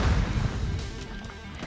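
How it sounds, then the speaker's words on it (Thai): A grenade explodes in Call of Duty Mobile with a loud, close, heavy boom that starts abruptly and fades into a rumbling tail. "เอ้ยระเบิด"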